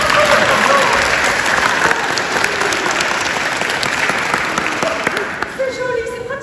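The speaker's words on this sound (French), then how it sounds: "on peut l'applaudir" An audience applauds a child, a loud and sustained burst of crowd clapping that thins out toward the end as voices start to come through.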